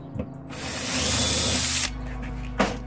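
A drill setting a rivet nut whirs in one sustained burst for about a second, close by, framed by short clicks and handling noises.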